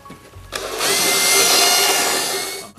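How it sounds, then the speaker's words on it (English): A power drill cuts a circle for a speaker build, moved slowly with light pressure. It runs as a loud, steady, close high whine for about two seconds after a short start, then cuts off abruptly. "I'm trying to make a very round circle as I move the drill around."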